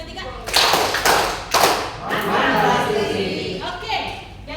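Audience at a bank client financing training session clapping for Pak Ferdi in a rhythmic counted burst of sharp claps, close and loud, with a voice talking over it.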